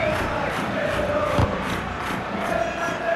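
Steady roar of a stadium crowd in a football video game, a continuous cheering wash running under the commentary throughout, with one brief thump near the middle.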